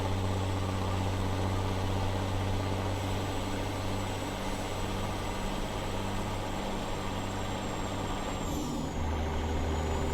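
American Truck Simulator truck with a modded 2000+ hp engine droning steadily at a low, even pitch, then a gear shift near the end drops the engine tone, with a faint whine above.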